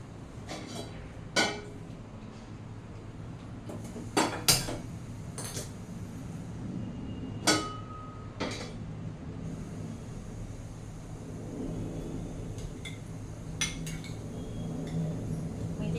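A cooking pot for rice kheer handled in a home kitchen, with sparse metallic clinks and knocks spread across a quiet stretch, one louder clank near the middle, no talking.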